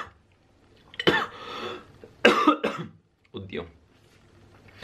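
A person coughs in two or three harsh, close bursts, each followed by throat clearing, with a brief spoken exclamation in Italian between them.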